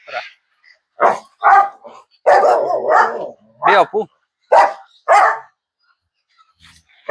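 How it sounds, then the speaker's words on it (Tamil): A large dog barks repeatedly at the Ibrahim animal park near Pudukkottai, with several loud, close barks in quick bursts and pauses between them while people talk nearby. "உள்ள நிக்கும் போது இப்படி குலைக்குது"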